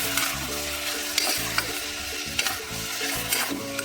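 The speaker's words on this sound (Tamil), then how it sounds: "இப்போ இதை பண்ணோம்னா அப்படியே கலக்கி விடணும் அந்த வெங்காயத்தோட" Chicken chukka stirred with onions in a hot pan: continuous sizzling with repeated spatula scrapes and knocks at an irregular rhythm, close up and without any voices.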